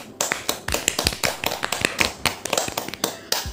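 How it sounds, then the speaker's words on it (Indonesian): A class of students claps for a classmate in a classroom, with uneven, distinct hand claps close by, loose in rhythm and lasting a few seconds. "Beri tepuk tangan untuk Salsa."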